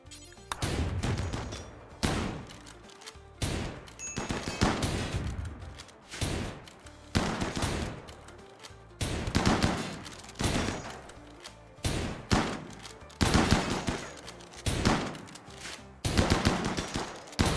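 Small automated sentry turrets fire in a combat video game: repeated bursts of rapid gunfire with heavy thuds, coming in an irregular series of loud volleys with short gaps between them.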